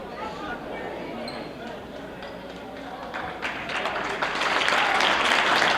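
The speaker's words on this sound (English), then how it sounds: "it's a nice round of applause from everybody in the gymnasium" Applause from the crowd in a school gymnasium during a high school basketball game against Pittsville, starting faint and swelling into broad sustained clapping over court noise and a commentator's voice.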